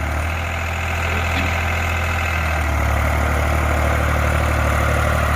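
A New Holland 3600-2 tractor pulls a nine-tine cultivator through a field, its diesel engine droning loud and steady with a low rumble and faint knock, no voices.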